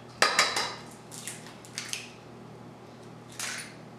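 Eggs, vanilla and other wet ingredients for pumpkin protein bars are whisked in a bowl, giving a few quick clinking strokes near the start, then scattered lighter taps and a final short burst, with no voices.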